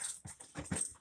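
A pet dog pants and whimpers indoors at home while a refrigerator repairman is visiting, giving a few short, breathy bursts and faint whines close by, with no talk over them.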